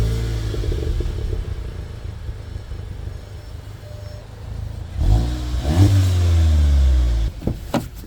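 A Volkswagen GTI idles quietly at first, then its engine rises in a couple of strong revs partway through, followed by a sustained higher rumble and a drop back with a few sharp knocks at the end.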